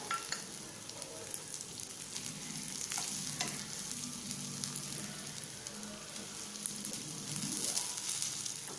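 Coriander, pepper and cloves dry-roast in a pan for a village-style fish kuzhambu, giving a steady close sizzle with intermittent scraping stirs and no talking.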